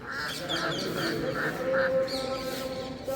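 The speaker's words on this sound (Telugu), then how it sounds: "బాతులు చూడు ఎలా అరుస్తున్నాయో" Several ducks quack repeatedly in a rhythmic series, moderately close, over faint background noise.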